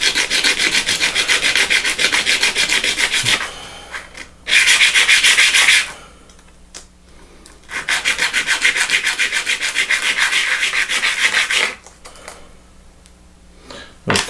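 Hand sanding on a scroll saw part gives loud, rapid rhythmic scratchy rubbing strokes in several long bursts separated by brief quiet pauses.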